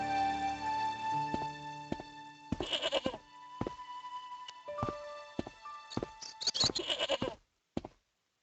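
A goat in the Broken Sword video game, tethered by a rope, bleats in several wavering, nasal calls, close and clear over a quiet tonal background, with short pauses between bursts.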